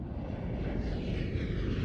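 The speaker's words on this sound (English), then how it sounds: "The plane took off." A passenger airliner taking off, its jet engines giving a steady, loud, continuous roar throughout, with no voices.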